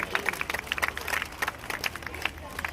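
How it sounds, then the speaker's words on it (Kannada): An audience at an education award event for students breaks into applause, with uneven bursts of clapping over a crowd murmur and a voice speaking through it. "ಸರ್ವರ ಚಪ್ಪಾಳೆ ಮೂಲಕ ಗೌರವಿಸಬೇಕಾಗಿ ಕೇಳಿಕೊಳ್ಳುತ್ತೇವೆ"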